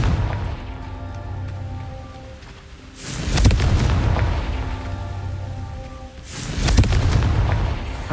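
Two loud, deep booms of the Confringo blasting spell from the Hogwarts Legacy video game, each followed by a rolling, crackling decay, with a quieter hum of game ambience between them.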